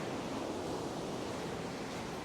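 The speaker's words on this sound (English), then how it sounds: "Some boiling water right there." A pot of boiling pasta water bubbles and roils close by, a dense, steady hiss and churn with no talk.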